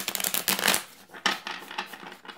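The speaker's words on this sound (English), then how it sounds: "And let's see how they shuffle." A deck of Polish tarot cards is shuffled by hand, giving quick papery riffles and rustles in two or three close bursts with short pauses between them, heard alone.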